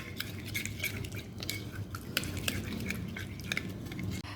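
Spices for a Lahori chargha marinade, with a little red colouring, being mixed in a bowl: soft, steady scraping and stirring with scattered light clinks of a utensil, fairly quiet and close.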